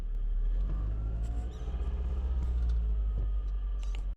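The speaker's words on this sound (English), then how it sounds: "I'll let this car pass." A car passes close to another vehicle on a road through Oregon, Wisconsin, a loud low engine rumble that holds steady and then cuts off abruptly at the end, with no talking.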